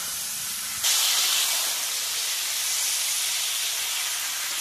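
Potato and eggplant pieces sauté with turmeric and salt in a hot pan, giving a dense, steady sizzling hiss that jumps louder after the first second and then holds on its own.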